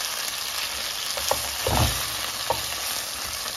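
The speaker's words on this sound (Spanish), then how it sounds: "Ya tú decides qué tan dorado, vamos a darle vuelta, qué tan doradito dejas el pollo." Chicken pieces fry and brown in a pan, a steady close sizzle with a few soft clatters as they are turned, and no voices over it.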